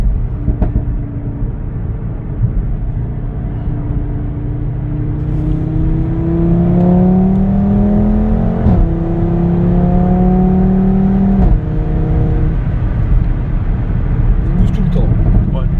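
A 2016 Audi RS3 with 367 hp pulls hard through several gears from inside the cabin, a rising engine drone broken by quick shift dips, loud and steady, with people talking over it.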